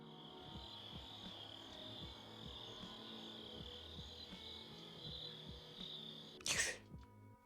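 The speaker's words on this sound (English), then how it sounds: "catches nothing but crickets chirping under a night sky" Crickets chirping outdoors under a night sky, a steady continuous high trill, faint and even throughout, with a soft low rhythmic pulsing underneath and a sudden short burst of noise near the end.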